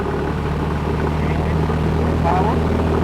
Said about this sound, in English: Now we start to throttle up, switch to switch, throttle,